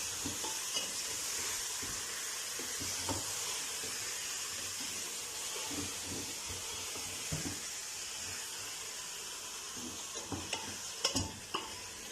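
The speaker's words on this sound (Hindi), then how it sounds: "कलर चेंज होने तक गोश्त को फ्राई करेंगे।" Meat fries in a pot for deghi balti gosht, a steady, close sizzling hiss broken by scattered knocks and scrapes of stirring, growing busier near the end, with no voices.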